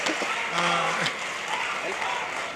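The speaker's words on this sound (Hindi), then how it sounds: "तालियां जोरदार आनी चाहिए।" Audience applause at a Hindi comic poetry gathering, a short burst of hand clapping heard close with a voice sounding over it.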